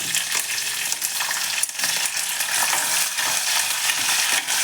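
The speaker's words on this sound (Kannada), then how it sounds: "ಸ್ವಲ್ಪ ಈರುಳ್ಳಿ ಫ್ರೈ ಆಗಬೇಕು" Onions frying in a pan with peanuts and curry leaves give a steady, close, dense sizzle that runs on alone without a break.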